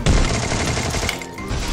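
M1014 shotgun fire in a shooter video game, a loud close blast followed by a dense rumbling burst of gunfire, with no talking over it.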